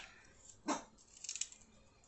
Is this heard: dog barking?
yes